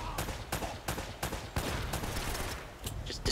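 Rapid gunfire in the video game Uncharted: Drake's Fortune, with bursts of blind fire and a shotgun enemy, sharp repeated shots at an uneven rhythm over a steady din of battle, fairly quiet overall.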